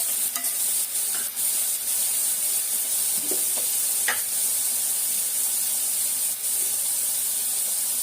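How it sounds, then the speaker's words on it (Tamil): Chopped tomatoes sautéing in a pan for a home-style garlic kuzhambu, a dense, steady, fairly loud hiss of sizzling with occasional stirring scrapes and taps, no talking. "தக்காளியோட பச்சை வாசனை போகிற வரைக்கும் கொஞ்சம் வதக்கிக்கலாம்."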